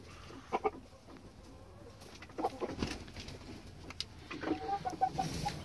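Chickens cluck softly in a coop among scattered scratching and shuffling, with brief calls at intervals and no talk.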